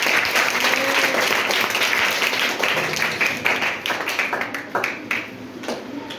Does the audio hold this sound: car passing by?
no